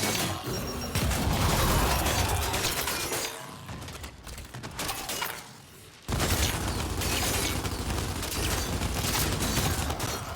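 A frag grenade going off in the video game Gears 5, heard as a loud, dense burst of blasts and crackling debris that dips briefly around the middle before a second heavy eruption carries on to the end.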